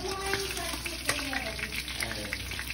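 Five pieces of fish sizzle steadily in hot oil in a pan for escabeche, a continuous crackling fry with small pops throughout.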